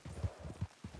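A horse's hooves clip-clop in a quick, quiet rhythm in the Red Dead Online video game, a handful of soft hoofbeats with no talk over them.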